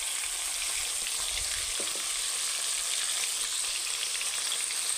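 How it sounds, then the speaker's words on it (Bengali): Meat frying in a pan with turmeric, chilli powder, Kashmiri chilli powder and salt, a steady close sizzle filling the whole span with a faint stir near the middle. "তো এটাকে আমি অল্প লাল লাল করে ভেজে নেব মাংসটা।"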